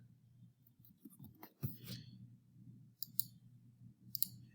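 Computer mouse clicks during clinical software use, a few sharp, faint clicks at irregular intervals over a low background hum.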